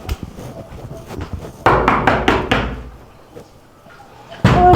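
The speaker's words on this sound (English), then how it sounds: "How come I beat down your door," Heavy banging on a door in a Jamaican drama scene: a burst of loud, rapid thuds repeated several times, a pause, then another loud knock, with brief speech in between.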